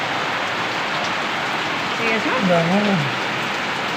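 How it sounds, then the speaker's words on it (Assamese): Heavy rain pours down in a steady, loud wash of hiss that fills the whole stretch, with a brief spoken voice rising over it midway. "ডাঙৰ বৰষুণ"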